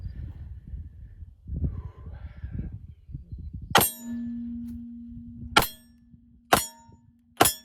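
Pistol shots at shooting practice, four sharp loud cracks spaced a second or two apart, the first followed by a lingering metallic ring, with rustling and handling noise before them.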